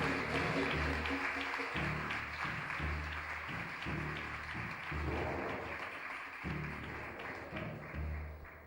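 Audience applause at an awards celebration honoring an entrepreneur couple, moderately loud clapping blended with pulsing low music beats and a warm hall ambience.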